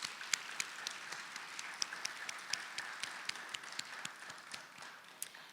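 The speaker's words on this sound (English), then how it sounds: "Please give our students a round of applause." Audience applause at a high school National Honor Society induction ceremony: a steady patter of many hands clapping in a hall, moderately distant and fairly soft, continuing evenly with no voices over it.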